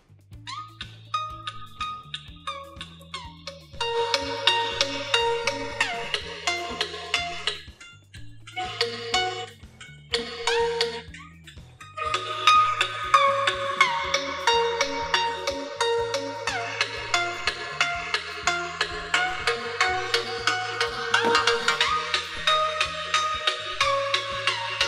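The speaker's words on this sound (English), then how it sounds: "now let's test the speaker loudness." A Realme C1 smartphone playing a loud melodic ringtone through its built-in speaker, with a steady repeating bass pattern under bright synth tones, briefly dipping before resuming at full volume.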